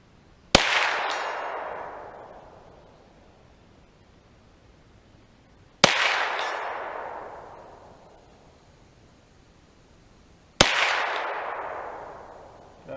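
Three loud, sharp gunshots from a Kel-Tec Sub2000 Gen 2 9mm carbine, spaced about five seconds apart, each followed by a long echoing outdoor decay, with no talking between the shots.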